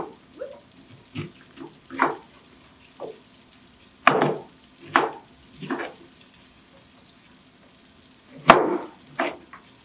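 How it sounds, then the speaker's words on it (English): A knife slices a cabbage wedge into long, thin strips on a board, giving a dozen or so sharp, separate crunchy chops at an uneven pace, close and clear with no voices. "for our cabbage, we're just going to cut it into long, thin strips"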